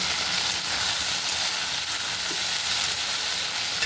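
Okra frying in a pan with black cumin seed tempering, a loud, dense, continuous sizzle and hiss that stays steady throughout with no voices.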